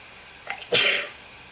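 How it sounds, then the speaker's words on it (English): A single sharp sneeze, close up, with a brief intake of breath just before it. "excuse me, I have to sneeze."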